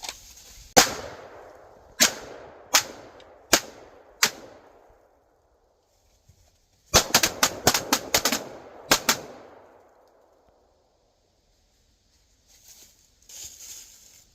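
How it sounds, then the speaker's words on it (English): Pistol shots ring out at an outdoor range, first five evenly spaced loud cracks, then a pause and a fast rapid string of about eight shots with a couple more after, each echoing briefly; faint sounds follow near the end. "So obviously I got to shoot the pistol today."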